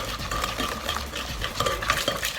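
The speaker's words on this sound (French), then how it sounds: "Et on continue à mélanger." Cake batter with milk, for a Mexican three-cheese cake, is stirred steadily in a bowl, giving a continuous close scraping and sloshing with no voices.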